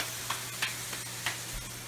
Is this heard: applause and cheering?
no